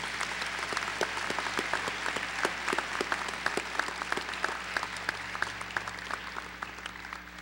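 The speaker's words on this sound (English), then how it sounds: "let's give them a round of applause for the support that they've shown us" A graduation audience at the Joplin High School 2017 ceremony gives a steady, dense round of applause, many hands clapping at once and filling the hall for several seconds at moderate distance.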